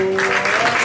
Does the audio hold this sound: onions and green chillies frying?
no